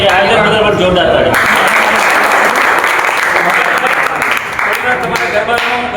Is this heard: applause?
yes